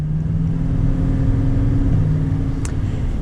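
A 2020 Chevy 3500 High Country Duramax pickup with a 10-speed transmission accelerates, and its engine drones loud and low in a steady rumble heard from inside the cab, with a brief faint click near the end.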